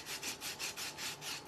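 A handheld sanding tool rasps across a Dollar Tree coco liner snowman craft in steady, rhythmic back-and-forth strokes, about seven passes, close and fairly soft with no talking.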